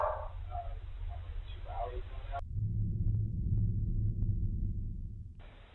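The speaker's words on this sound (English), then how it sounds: "it's a dog, it's a dog" A dog barks a few times in the distance, faint and muffled beneath a low steady rumble, with a voice talking over the first part.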